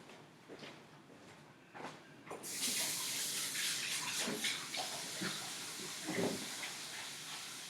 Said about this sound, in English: I'm actually going to wash my hands real quick before I get into this